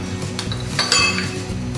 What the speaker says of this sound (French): Alors Isabelle, on va mettre 4 cuillères de crème fraîche.